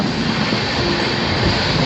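A passenger train on the Gandhidham to Tirunelveli route runs with a steady, loud, continuous rumble and hiss, without distinct wheel clicks standing out.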